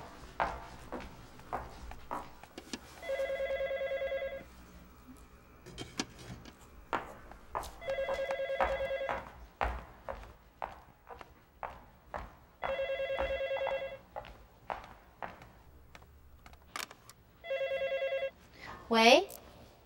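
A telephone rings unanswered in a home in four spaced bursts of a bright electronic ring, with a mother busy hanging laundry and household clatter and movement between rings.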